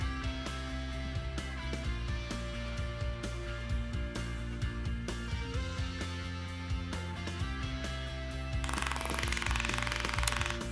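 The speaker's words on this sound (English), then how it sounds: "It's an awesome template system with a bushing on the router so that you can correctly cut out the exact size with minimal chisel work." Loud, continuous high whine of a router with a template bushing cutting bow tie inlays in wood, with steady buzzing and rising harshness near the end.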